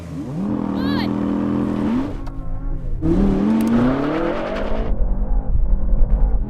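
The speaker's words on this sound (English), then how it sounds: "Decent start, but that Tesla's so quick off the line." A Tesla and a BMW launching off the line in a drag race, engines and motors revving and rising in pitch through two surges, loud and close, mixed with excited talk.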